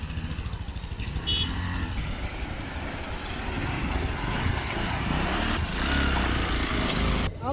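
A motorcycle engine revs and labours continuously while bouncing along a rough, broken off-road village track, close and uneven, with wind buffeting and a brief voice near the start.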